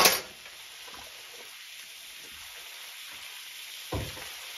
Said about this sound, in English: I'm going to add in probably about that much of minced garlic.